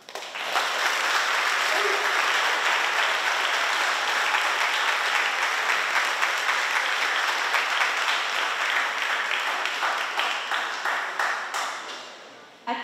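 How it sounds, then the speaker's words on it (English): Audience at a JROTC awards ceremony applauding the cadets, sustained dense clapping that builds quickly, holds steady for several seconds, then thins into scattered claps before stopping. "Please join us in a round of applause for all the cadets' achievements"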